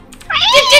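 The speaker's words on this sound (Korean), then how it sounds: "고양이 소리가 들리잖아" A short cat meow from the game Minecraft rises sharply after a brief quiet moment, loud and close, with a slightly synthetic, game-like quality.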